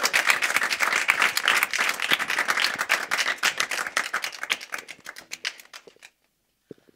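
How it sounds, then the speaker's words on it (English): An audience applauds with dense, steady clapping that thins out to scattered claps and then stops. "Let's have a round of applause."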